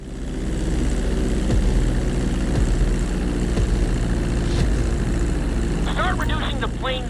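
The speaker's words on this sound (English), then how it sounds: "Now let's get the plane off the runway." Propeller plane in Grand Theft Auto 5 taxiing on a runway, engine droning loud and steady with a constant low hum, as a voice speaks over it near the end.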